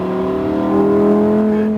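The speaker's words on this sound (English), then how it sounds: "Squeeze onto the throttle, accelerating up the hill towards the right side." A Lamborghini Huracan accelerates uphill, its engine holding a loud, steady, droning tone that swells slightly as throttle is squeezed, close and continuous with no speech.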